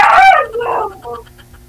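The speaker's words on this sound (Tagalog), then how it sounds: "Maingay po kasi yung aso eh. Aso po yung sumasagot, sir." A dog barks and yelps a few times in close succession, loud and near, with a howling, whining edge.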